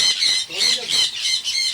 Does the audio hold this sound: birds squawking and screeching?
yes